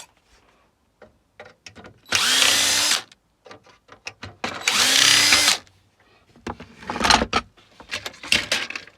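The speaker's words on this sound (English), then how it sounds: "Get a screwdriver." A powered screwdriver whirs in two loud, close bursts of a second or so each while opening a lighting ballast housing, with scattered clicks and handling knocks around them.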